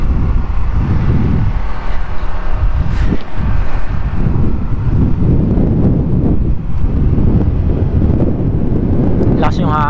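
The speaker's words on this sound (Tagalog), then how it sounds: "Lakas yung hangin, ah." Strong wind buffets the microphone with constant loud rumbling roar during a ride on a Kymco KRV Moto scooter in Taiwan, steady and unbroken throughout.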